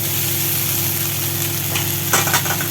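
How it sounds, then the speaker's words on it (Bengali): Drumstick flowers and potatoes frying together in a pan for a poppy-seed dish, giving a steady, close sizzle with a few scraping stirs toward the end. "দিয়ে এটা একটু আলুর সাথে মিশিয়ে ভাজা ভাজা করে নেব"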